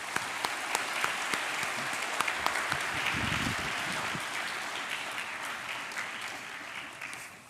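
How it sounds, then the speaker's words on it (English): Applause fills the hall at a school awards ceremony for exam results, a broad sustained wash of many hands clapping with a few sharper near claps standing out, the audience's clapping easing slightly toward the end. "Let's give everyone a round of applause."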